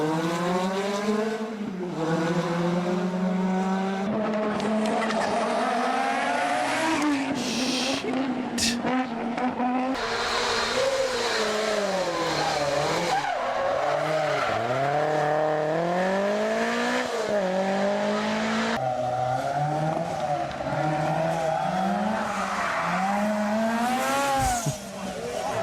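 Group B and legendary rally cars race hard, engines revving and dropping through gear changes with bursts of tire squeal, loud and continuous throughout, with occasional voices underneath.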